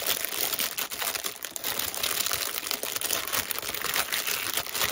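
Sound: crinkling of packaging

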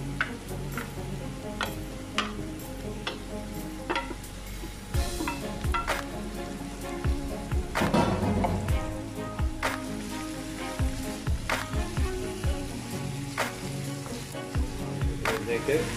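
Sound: chopped chicken frying in a pan

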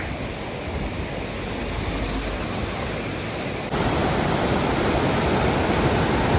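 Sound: waterfall at Valparai flowing into a dam

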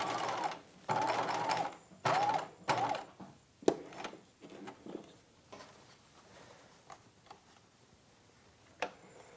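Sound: sewing machine stitching dress lining

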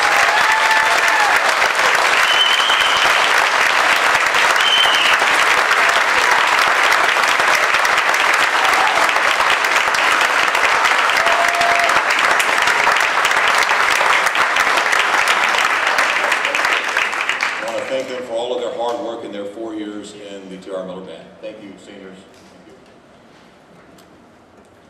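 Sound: audience applause for seniors at a spring concert

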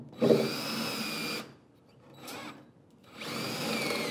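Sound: drill pre-drilling a hole in wood

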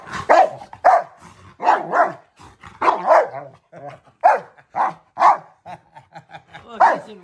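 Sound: dog huffing and blowing

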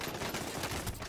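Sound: gunfire in the video game Call of Duty Warzone

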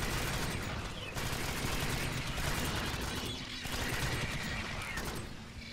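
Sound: gunfire in the video game Alien Swarm: Reactive Drop

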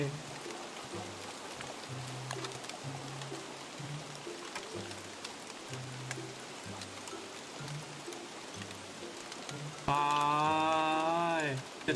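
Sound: rain in the video game Don't Starve

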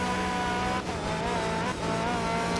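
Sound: rally car engine and tire squeal in the video game Art of Rally

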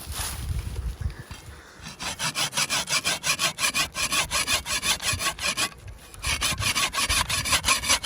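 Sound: hand saw cutting a tree

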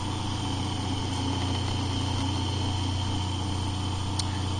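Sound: DC motor driving permanent magnet AC generator

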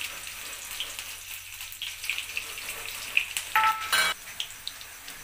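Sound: cumin and green chili sizzling in hot oil in a wok

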